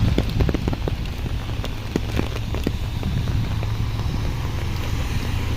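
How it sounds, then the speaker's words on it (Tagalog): Heavy rain pours down steadily, a dense continuous roar of drops drumming on a surface, with a low rumble underneath and no voices. "buhos ng ulan"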